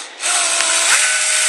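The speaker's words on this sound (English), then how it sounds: "with these synthetic type stocks, you can drill halfway through because it should be hollow in the middle" A power drill bores into a hollow synthetic Hogue rifle stock, a loud, close, steady high whine that starts abruptly and holds, with slight dips in load, and no speech.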